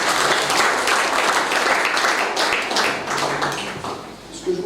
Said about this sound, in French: Je crois qu'on peut l'applaudir, notre secrétaire départemental.